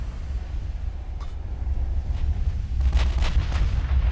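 A naval gun salvo in Ultimate Admiral: Dreadnoughts rumbles over a steady low sea-and-engine drone, with a few muffled, distant thuds and cracks rolling through the second half.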